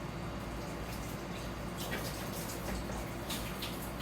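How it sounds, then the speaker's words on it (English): Water runs steadily from a tap over a big cutting board being rinsed, a continuous close splashing hiss with no speech. "So I'll just go ahead and rinse that"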